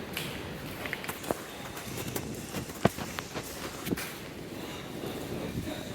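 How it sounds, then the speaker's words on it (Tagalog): Steady typhoon wind roars and buffets the microphone throughout, with faint scattered taps and knocks underneath, at a third-floor parking level. "Lakas ang hangin."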